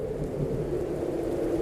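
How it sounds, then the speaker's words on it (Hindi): Heavy rain pours down in a fierce pre-monsoon thunderstorm in an animated horror tale, a dense, steady roar with a low rumble of thunder running underneath. "काल बैसाखी में तेज गरज चमक के साथ बारिश होने लगी।"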